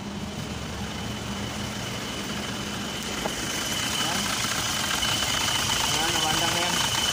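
An Isuzu 4JA1 diesel engine with a newly replaced cylinder head assembly idles steadily with a knocking clatter and faint high whine, then grows slightly louder, with someone speaking over it.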